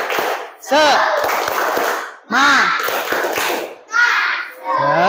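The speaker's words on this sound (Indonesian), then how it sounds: "kita tepuk semangat dulu" A class of schoolchildren claps out a rhythmic chant together in a classroom, with loud bursts of sharp clapping and shouted words that come in three or four bouts separated by short pauses.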